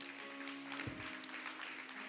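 A congregation claps during a Haitian radio church service, producing a steady wash of applause that stays fairly even, with a low thump near the middle.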